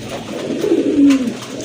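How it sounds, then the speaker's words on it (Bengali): Coos from a pair of pigeons, one a Giribaz hen and the other a Damachini cock, sounding as a low, soft cooing swell that rises in the middle and fades, close by and without talk. "এখানে আরেক জোড়া কবুতর দেখতে পাচ্ছেন, যদিও দুই ব্রিডের কবুতর"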